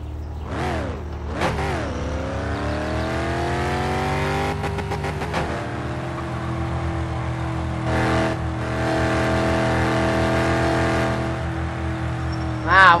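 A car engine in the driving game My Summer Car, revving up and down with rising and falling pitch, then holding a loud steady drone as the car drives on, close and continuous.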